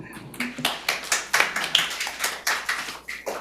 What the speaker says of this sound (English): it only feels appropriate to clap after that, doesn't it?